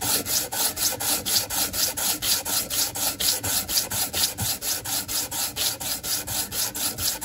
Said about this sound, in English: this is just 120 grit sandpaper to get me started on this